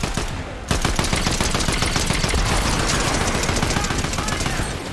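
Rapid, sustained gunfire rattles in the Fortnite game, dense automatic bursts snapping in quick succession for several seconds, loud and close with faint voices in the background.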